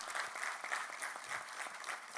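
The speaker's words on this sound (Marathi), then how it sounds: "मला वाटतंय आपण पुन्हा एकदा जोरदार टाळ्या आपल्या दोन्हीही वक्त्यांसाठी वाजवूयात" Audience at a book launch event in Pune applauding two speakers, with a steady wash of many-handed clapping heard from a distance at low volume.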